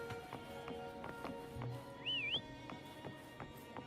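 A rising-and-falling whistle calling a mount in the Wuthering Waves video game, one short clear tone over steady rhythmic hoof-like taps and a soft game soundscape.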